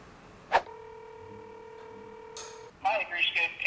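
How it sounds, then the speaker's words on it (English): A telephone line gives a steady tone for a few seconds, with a sharp click at the start and a short burst of dial tones afterward; no talking is heard. "I'm gonna make a couple phone calls"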